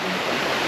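Fast-flowing river running beside a hiking trail after rain, a steady broadband rushing wash of water, close and continuous with no voices.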